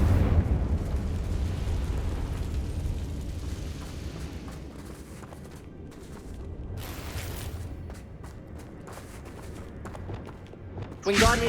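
Confringo fire spell blasts in Hogwarts Legacy roll out as a dense, booming rumble that fills the whole stretch, with a sharper burst near the end.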